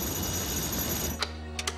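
A hotel telephone at the Hotel Louvois rings in an animated scene: a few short, bright ring bursts come through near the end over a steady background hiss.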